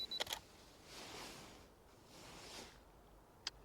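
A camera shutter fires in quick mechanical clicks at the start, with another single click near the end, faint against quiet outdoor air in the Lake District.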